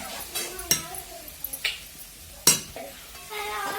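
Onion sautéing in a pan while being stirred for savory vada curry: a soft sizzle with scattered sharp scrapes and clinks of a utensil against the pan, fairly close and quiet.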